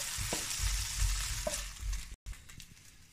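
Golden fried chicken pieces sizzle and crackle in hot fat as they are scraped and moved into a pot, with a steady loud frying hiss, scattered utensil knocks and a brief dropout near the end.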